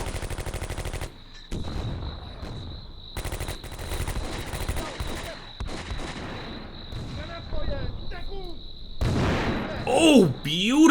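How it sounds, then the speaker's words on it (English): Gunfire and mortar explosions from a WW2 battle in the video game Combat Mission, with paratroopers assaulting a radar station: rapid bursts and booming impacts throughout, a steady high tone behind them and a voice talking over the noise. "beautiful mortar shot there by our men. Right on top of them."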